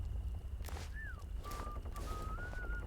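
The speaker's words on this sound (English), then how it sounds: "There's a little bit of whistling going on." A faint whistled tune drifts through the Atomfall video game: a few short rising and level notes over a low, windy ambient background, distant and quiet.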